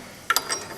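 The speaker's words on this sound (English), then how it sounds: "we'll use the wrench here a little bit more" A wrench turning a bolt on the carburetor of a Farmall H tractor: a quick pair of sharp metallic ratchet clicks, then a couple of fainter ticks, close and brief against a quiet background.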